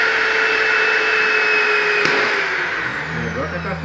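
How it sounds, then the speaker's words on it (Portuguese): An electric drill with a dulling bit bores into steel for a fireplace burner, whining loud and steady with a rising tone, then the pitch sags and wavers as the bit bites, with no talking. "Não é difícil furar."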